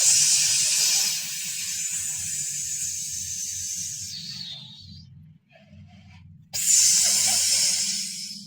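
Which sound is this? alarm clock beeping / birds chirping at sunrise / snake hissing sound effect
snake hissing sound effect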